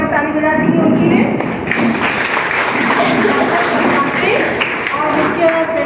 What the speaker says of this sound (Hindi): जोरदार ताली बजा दी उनके लिए।